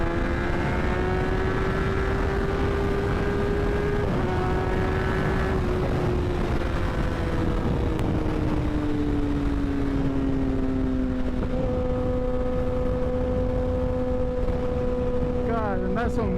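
A Kawasaki Ninja ZX10R sportbike engine drones steadily at close range, its pitch holding level and then slowly sagging, with heavy wind rumble over it and a few voices faintly underneath.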